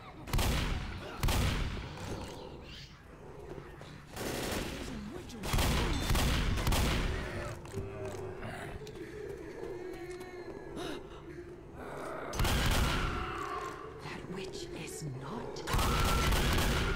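Repeated bursts of gunfire in Left 4 Dead's No Mercy hospital level, loud volleys with quieter stretches between them, under a player's voice and game noise.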